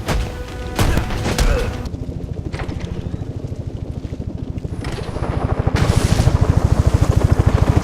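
A helicopter in the video game Batman: Arkham Origins, a loud rapid rotor thumping that holds steady and builds, mixed with crashes and impacts near the start and a brighter swell toward the end.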